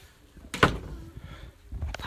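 A door being handled, with a sharp thump and rattle near the start and a softer bump toward the end over low room noise.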